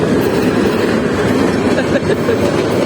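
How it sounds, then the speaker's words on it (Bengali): A train rumbles steadily past at close range, a loud continuous roar of wheels and carriages with faint clattering. "ওই যে ট্রেন আসছে দেখো"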